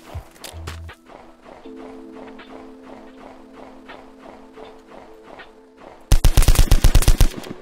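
An enemy fires a gun in the Roblox survival game Trident Survival: a rapid, loud burst of shots near the end, after quiet rhythmic footsteps and a short earlier blast.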